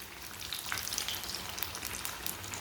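Spicy crispy potato patties frying in a pan over moderate heat, a continuous dense crackling sizzle with fine popping throughout, fairly quiet and close, with no voices.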